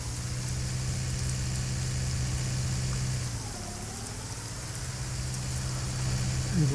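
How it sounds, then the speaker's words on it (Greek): Rain falls steadily in Farming Simulator 19 on the Erlengrat map, a constant hiss layered over a low idling engine hum that dips briefly midway, with no talking. "Αλλά σε όλους βρέχει τώρα, δεν μπορεί να κάνουμε κάτι άλλο."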